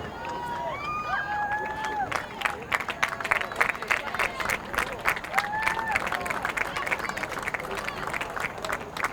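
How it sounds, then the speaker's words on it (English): Crowd applause and clapping at a junior varsity girls' high school soccer game, a steady wash of outdoor clapping with cheers and crowd noise, mixed with nearby voices and whistle-like tones throughout. "Round of applause as the junior varsity team will now leave the field"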